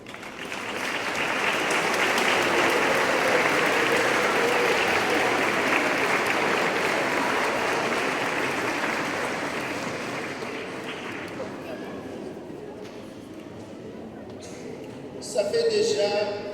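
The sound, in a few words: church congregation applauding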